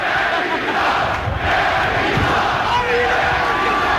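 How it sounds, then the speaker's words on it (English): A boxing event crowd chants and roars continuously, a loud, dense mass of voices filling the space, with a rhythmic chant rising from the din. "What's the crowd saying? Cabbie sucks."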